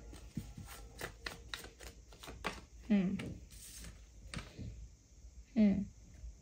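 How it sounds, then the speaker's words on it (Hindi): Tarot cards are shuffled by hand in a rapid series of light, crisp taps and riffles, close and quiet, followed by a few scattered card sounds while a person speaks softly between them. "थोड़ा और शफल करेंगे।"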